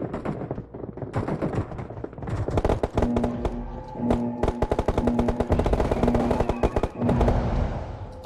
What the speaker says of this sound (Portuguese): Olha o laser que dispara aí, tá vendo?